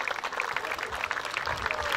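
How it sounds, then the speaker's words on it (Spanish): An audience claps for the jury at a neighbourhood carnival parade event, a dense, steady patter of many hands filling the space. "que se renueve el aplauso para este jurado"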